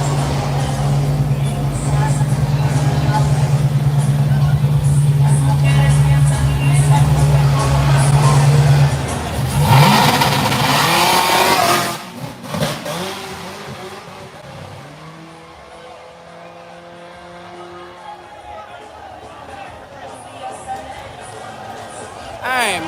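A ZR1-supercharged, LS-powered Mustang launches at a drag race. A loud, steady engine drone rises into a hard roar, then fades as the car pulls away, with crowd noise and talk underneath.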